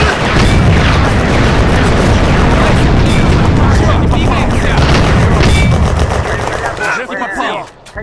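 Dense, rapid gunfire and booming blasts from the video game Firefight, loud and continuous for most of the stretch, thinning out near the end as a voice speaks.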